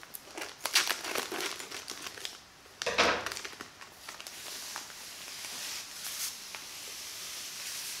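A plastic bag of sand is cut open and handled, giving close crinkling and rustling bursts with a louder crunch partway through, then softer sporadic crackles, no speech.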